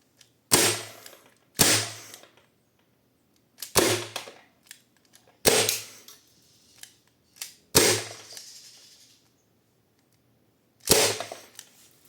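Six sharp, loud pops fired one at a time with uneven gaps, each a crisp snap with a short tail, from an HFC HG-131 airsoft revolver.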